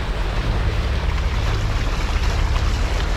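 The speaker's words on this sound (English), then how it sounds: "The engines are both running." A sailboat motors through calm, windless water off Australia with both engines running, giving a steady low rumble mixed with water and wind noise and no talk.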